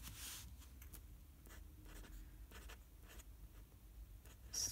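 A vintage 1980s Czechoslovak Centropen 32 fountain pen scratches across paper in short, faint strokes, close and quiet with no talking.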